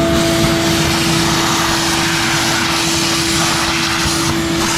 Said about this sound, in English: it's a good idea to vacuum it up as you go along